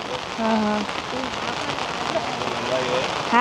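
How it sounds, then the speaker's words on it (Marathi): Heavy monsoon rain pours steadily in a Konkan village, a dense continuous hiss of drops on surfaces close by, while people talk over it throughout. "पाऊस पण थंड आहे ना"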